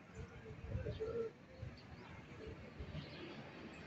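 Pigeons cooing softly in a loft during a racing-pigeon training release, low repeated coos with faint chirps against a quiet outdoor background and occasional human voices.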